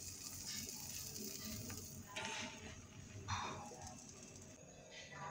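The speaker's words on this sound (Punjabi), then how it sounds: "ਹੁਣ ਆਪਾਂ ਇਹ ਵਾਲੇ ਬ੍ਰੈਡ ਵੀ ਆਪਾਂ ਤਵੇ 'ਤੇ ਪਾ ਕੇ ਇਹਨਾਂ ਨੂੰ ਵੀ ਆਪਾਂ ਸੇਕ ਲਵਾਂਗੇ।" Bread slices toast on a hot tawa, giving a low continuous sizzle with a few brief scraping swells, fairly quiet and steady throughout.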